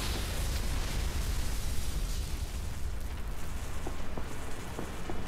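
An explosion in the Saints Row: The Third video game, heard as a sustained, loud, rumbling roar with crackling debris that fills the whole stretch, and a few faint pops near the end.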